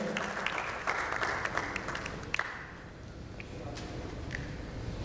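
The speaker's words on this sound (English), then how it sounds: "A big round of applause to Dr. Lakshmi Bansal for her wonderful contribution in the panel session." Applause for a woman doctor after her panel contribution at an insurtech conference, a burst of audience clapping that thins out after a couple of seconds into room noise.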